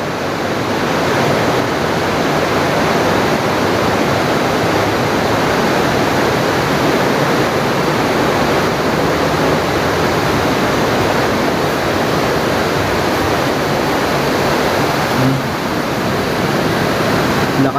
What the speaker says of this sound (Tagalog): Ang lakas ng agos.